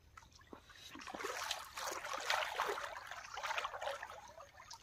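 A small river flows through a village, a soft continuous rush and trickle of water that swells in the middle, heard from close by at a gentle level.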